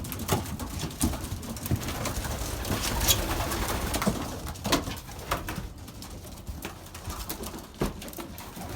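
Belgian racing pigeons coo steadily in a loft housing about 32 birds, soft overlapping calls with occasional wing flutters and scuffs close by, no voices.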